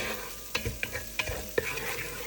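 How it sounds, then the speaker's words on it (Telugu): Chillies frying in oil in a pan, a steady soft sizzle with a few light scraping taps as they are stirred, close and faint. "ఇప్పుడు మనం కొన్ని చిల్లీస్ వేసేద్దాం. అలాగా నీట్గా. And will let it cook."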